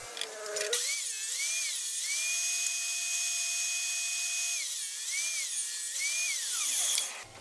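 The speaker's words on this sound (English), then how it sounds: "I rip the groove in a squared off scrap of 2x4." A power saw ripping a groove into a squared-off scrap of 2x4 lumber, a steady high whine held for about six seconds with slight pitch dips as the blade loads, starting and stopping abruptly.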